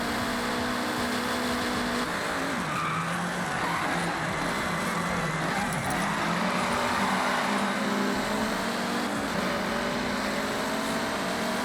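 A Lancia race car engine in the Forza Horizon game drones steadily at high revs, a continuous loud whine that shifts pitch slightly across the whole stretch, with no talk over it.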